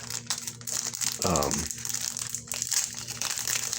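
Paper instructions and a card from a toy box crinkle in one short, loud burst near the mic while someone talks just before and after it.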